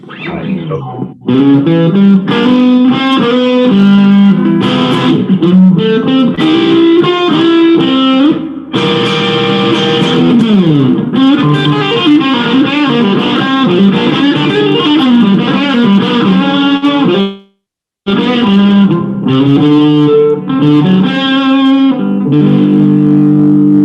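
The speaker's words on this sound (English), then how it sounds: "I heard you play the guitar." A loud, distorted electric guitar plays chords and riffs continuously, with one brief drop to silence before resuming.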